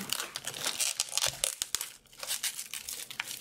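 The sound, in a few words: crinkling thin plastic foil packaging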